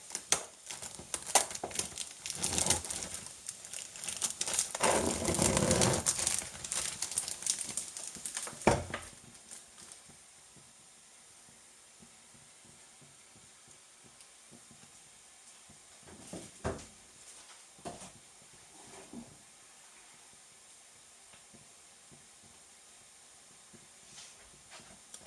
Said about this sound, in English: I'm just going to add my mince